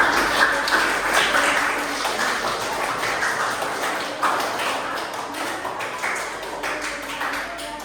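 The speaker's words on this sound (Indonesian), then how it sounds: "tepuk tangan untuk hasil karya kalian" Classroom of students applauding their own finished work, a dense, steady patter of many hands clapping close by, sustained throughout with faint voices mixed in.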